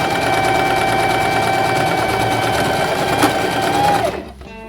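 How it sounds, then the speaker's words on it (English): A sewing machine stitches a lined Christmas stocking in one steady, loud, continuous straight seam that runs alone and then winds down and stops near the end. "For this one, just sew all the way to the end."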